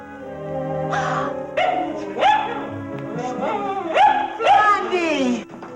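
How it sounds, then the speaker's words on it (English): A dog yips and barks several times in quick bursts, mixed with whimpering, over noisy old 1940s film sound, with voices nearby. "This happens to be my dog."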